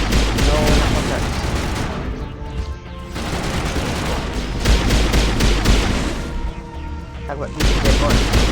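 Video game gunfire, dense rapid shots and booms layered in a continuous barrage, loud and near, with a voice talking underneath.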